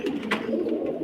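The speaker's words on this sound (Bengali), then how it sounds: "এগুলো উড়াবাজির কবুতর" A flying-breed pigeon coos in a single low, throbbing call sustained for about a second, close and clear with no talk.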